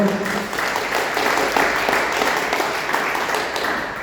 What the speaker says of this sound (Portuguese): Que pode dar uma salva de palmas para o Senhor.